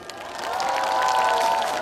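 An audience applauds at an outdoor MBC trot music broadcast in Asan, a dense swell of clapping and cheering that builds and holds, with a sustained musical tone beneath.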